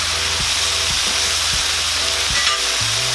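Beef offal stew with lemongrass and bay leaves sizzles steadily in a pot, a dense continuous frying hiss with a few soft knocks and stirring bumps, close and fairly loud with no talk.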